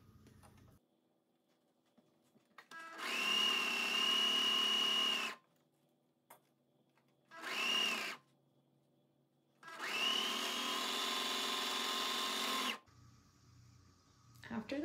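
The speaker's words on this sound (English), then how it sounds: "I'm going to sew up the side seam and the sleeve seam in one" A sewing machine stitching the side and sleeve seams of a knitted cardigan, running in three close bursts, two long and one short, separated by quiet pauses, with faint low background sounds.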